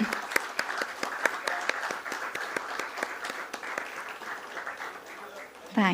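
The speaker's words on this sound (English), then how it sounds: "And that's our cue to give a huge round of applause" A room full of guests at a company stock-exchange listing ceremony claps in a warm round of applause, individual sharp claps standing out close by before fading, with a voice briefly under it.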